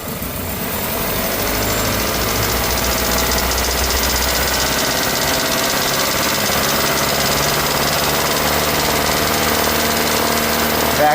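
A car engine running during a catalytic converter test, held at raised RPM with a steady, continuous drone and rumble that stays loud and even throughout, with no talk over it.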